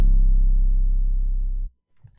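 A single deep 808 bass note processed with effects, gritty and harmonic-rich, sustaining loudly for about a second and a half before cutting off abruptly.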